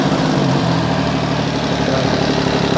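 An MV Agusta Superveloce 800 sportbike with a cold engine idles while warming up, a steady, loud, close mechanical rumble that continues without a break.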